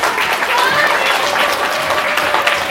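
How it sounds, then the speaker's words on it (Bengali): An audience at a magic show claps loudly and continuously, dense applause filling the room without a break. "আবার একবার জোরে হাত তালি দাও"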